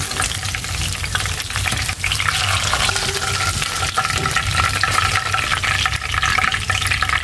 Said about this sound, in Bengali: আর পরে মাছগুলো এইভাবে ভেজে নিব।